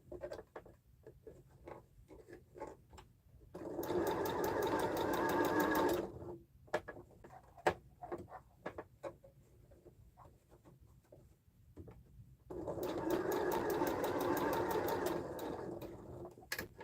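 A sewing machine stitches fabric for a sling sew-along in two steady, loud whirring bursts of about two and a half and four seconds, with quiet handling sounds between them.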